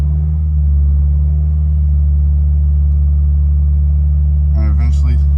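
A car engine holds a steady revved idle at about 2,000 RPM, with a loud, constant low rumble throughout. A brief voice-like sound rises briefly near the end.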